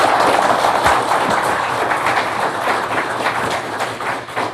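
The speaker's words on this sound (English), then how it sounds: "Please give them a round of applause" Audience applause at a Washington County, Maryland Board of Education candidate forum, a steady wash of many hands clapping that holds close and loud throughout with no pauses.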